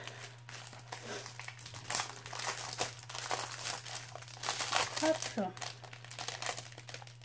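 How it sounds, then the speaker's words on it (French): Packing paper crumpling and crinkling steadily while an Etsy order is unpacked, a loud dry rustle that keeps going under someone speaking French. "Il y a pas mal de papier quand même."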